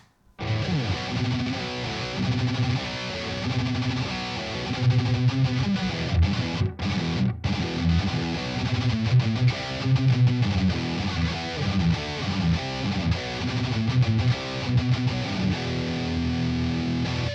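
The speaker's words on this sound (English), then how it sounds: "Let's turn this beast on." A continuous overdriven electric guitar plays chords and riffs, thick and gritty, loud and close with no talking.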